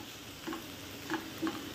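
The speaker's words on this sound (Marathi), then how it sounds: "1-2 मिनिटासाठी मटकी आपल्याला फक्त परतून घ्यायची आहे।" Cooked moth beans (matki) being sautéed briefly in oil, giving a soft, steady sizzle with a few light stirring scrapes around the half-second mark and twice more near the end.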